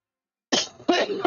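A few close, sharp coughs in quick succession, loud and dry, after a moment of silence.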